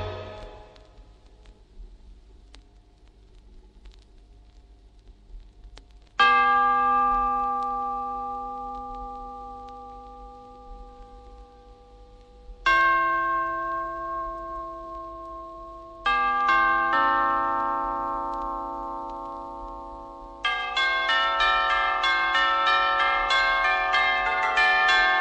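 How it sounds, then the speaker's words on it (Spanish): A bell rings out in four separate loud strikes spaced several seconds apart, each ringing tone slowly dying away, the last strike brighter and fuller than the others. "Sonó la campana al gesto de un dedo."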